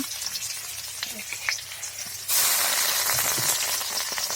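Chopped onion and green chili hit hot oil with panch phoron, a loud, steady sizzle bursting in suddenly after quieter kitchen clatter and continuing up close.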